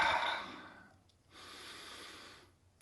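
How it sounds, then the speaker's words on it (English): Butterfly breaths during a breathing exercise: a strong, close breath rushes out, pauses briefly, then a second long, softer breath follows. "And then some butterfly breaths."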